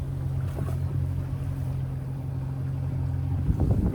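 A fishing boat motoring off the Isle of Wight Needles, its engine a steady low drone at about 2–3 knots, with wind and water washing over it and no talk.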